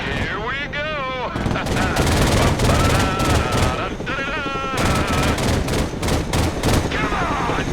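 Helicopter machine gun in the video game Broken Arrow rattles in loud, sustained bursts with brief gaps, alongside game voices and effects.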